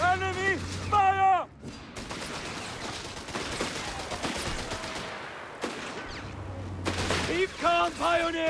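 Battle sounds from Company of Heroes 3, with bursts of gunfire and explosions running through the middle of the clip. Shouted soldier voices come in at the start and the end.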